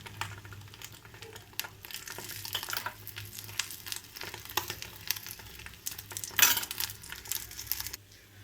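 Egg dosa frying in a little oil on a hot pan, a close, steady crackling sizzle with faint scrapes and spatters throughout, and no voice.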